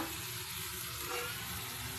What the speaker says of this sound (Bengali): তাহলে শাকটা আমি ভালো করে ভাজা ভাজা একটু করে নিই